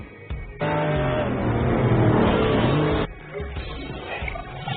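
Race cars in a VR racing game, with a loud sustained engine roar that starts abruptly, holds for a few seconds and then drops back to a lower, quieter engine drone.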